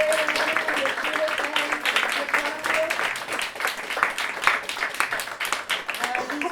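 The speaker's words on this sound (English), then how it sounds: "More applause for our first ever storytellers here in Lannon" An audience at a storytelling show applauds, giving dense, continuous clapping with individual claps audible, while a voice speaks over it at points.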